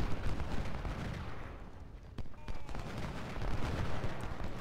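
Battle gunfire from the Civil War strategy game Ultimate General: Civil War, with musket volleys and cannon merging into a dense, continuous roar that swells and dips slightly over several seconds.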